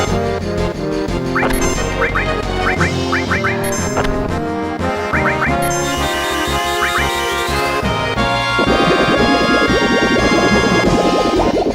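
Cartoonish duck-like quacks from birds in Final Fantasy VII, sounding in short repeated bursts over busy game music with chimes and jingles, with no voices.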